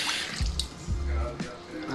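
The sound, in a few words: water running from newly installed sink faucet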